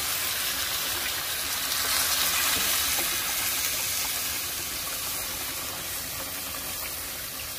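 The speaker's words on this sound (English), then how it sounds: "I'm working with 32 ounces of beef stock going in." Beef stock pours into a hot pan for Tex-Mex carne guisada, producing a steady broad gushing hiss that swells and then slowly eases off, close and without voices.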